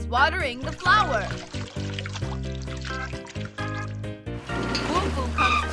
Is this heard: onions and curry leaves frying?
no